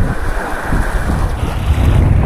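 Strong wind and sea waves, heard from a small boat on the open sea, form a loud, blustery rumble that buffets the microphone continuously.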